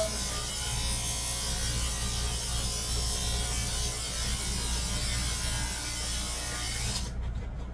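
Electric dog clippers with a 1/4-inch number 4 guard comb over the blade trim a sheep-a-doodle's fur, a steady close buzzing hum that runs unbroken and cuts off abruptly near the end.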